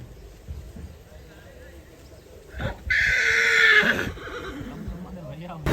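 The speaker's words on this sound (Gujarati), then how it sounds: "જો ભાઈ અહીંયા એક ઘોડો છે." A horse neighs loudly on a horse farm, one long whinny in the middle of the clip over outdoor background noise and soft rumbling.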